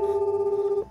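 A telephone ring tone during an outgoing call, a steady pulsing electronic tone held loud and clear for most of a second before cutting off.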